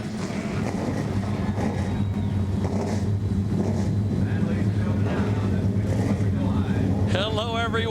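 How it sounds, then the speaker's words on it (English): Race car engines at an ASA Racing Series event at Toledo rumble together as a steady, dense low roar, with a loud crowd-like wash over it and a brief whine near the end. "Gentlemen, start your engines!"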